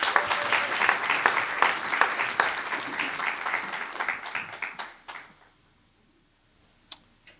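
Audience at Maryland's 2023 Poetry Out Loud state competition applauds poet Imari, a loud, dense wash of clapping that fades out around five seconds, leaving near silence with a few scattered late claps.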